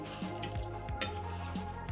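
Scrambled eggs sizzle softly in a frying pan on the stove while being pushed around with a utensil, with steady low frying hiss and occasional light scraping strokes against the pan.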